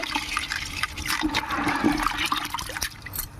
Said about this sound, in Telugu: శుభ్రంగా బకెట్లో పెట్టుకొని కడుక్కోవాలండి.